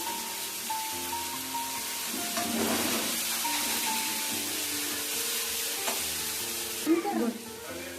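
Tomato sauce frying in a pan for hotel-style aloo gobi gives a steady close hiss and sizzle throughout, with a brief scrape of stirring near the end and no talking.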